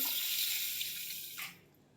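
Water pours steadily from a small glass onto sugar in a continuous hissing stream for over a second, then stops abruptly, leaving a quiet room.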